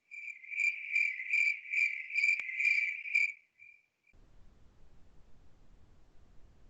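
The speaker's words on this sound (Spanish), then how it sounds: "Voy a colocarles el grillo este que no dice nada." A recorded cricket chirps in a steady, evenly spaced rhythm of about eight loud, clear trills, then stops and leaves only faint background hiss.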